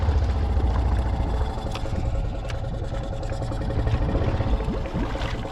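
A Honda Rubicon 520 ATV engine idles steadily while submerged in a pond, giving a continuous low rumbling drone with bubbling water texture throughout.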